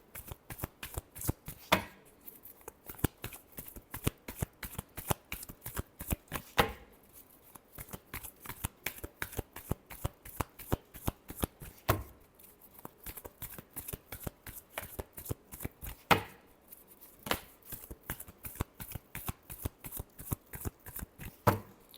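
Tarot cards are shuffled by hand in long, even bursts of crisp riffling flutters, close and fairly quiet, with brief pauses between rounds and no talking.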